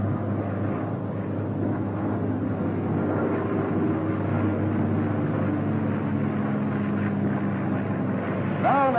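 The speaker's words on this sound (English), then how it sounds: "The F6F has very little tendency to swerve and will fly yourself off at a speed of" A Grumman F6F Hellcat fighter's radial engine roars steadily through a takeoff run, a loud, continuous drone with a constant low hum that holds from start to finish with no voices.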